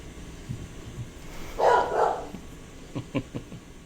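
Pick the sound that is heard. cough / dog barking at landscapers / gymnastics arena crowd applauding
dog barking at landscapers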